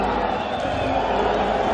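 Football stadium crowd at a COSAFA Cup match between Malawi and Eswatini, a dense, loud, continuous roar of voices filling the whole stretch.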